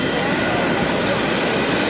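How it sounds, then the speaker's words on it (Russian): Airliner at Kyiv airport, a steady broadband roar of jet engines close by that holds level and fills the whole clip, with no voices over it. "вот наконец-то наш лайнер красавец"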